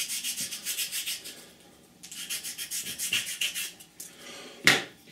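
A plastic part from an Academy 1/48 F-4B Phantom model kit being sanded by hand, a close, soft rasping rub in repeated back-and-forth strokes with brief pauses between passes.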